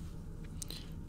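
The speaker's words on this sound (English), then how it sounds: "Don't judge me, I'm chewing on plastic." Someone chews on plastic close to the mic, giving a few faint, crisp crunches and clicks in quick succession over a quiet low background.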